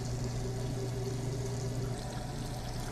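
Steady stream of tap water pouring continuously, close and fairly loud, with no talk over it.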